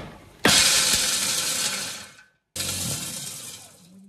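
A food processor grinds whole roasted almonds in two loud bursts, a harsh rattling, clattering whir of hard nuts hitting the blade, stopping abruptly between pulses.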